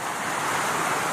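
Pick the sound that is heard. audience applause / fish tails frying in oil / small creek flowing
small creek flowing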